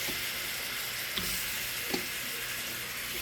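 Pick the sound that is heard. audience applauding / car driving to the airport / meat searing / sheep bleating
meat searing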